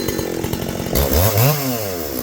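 Close, loud vintage 77 cc chainsaw: a steady high engine whine, then a dip and climb in pitch as the chain bites into wood and works through the cut.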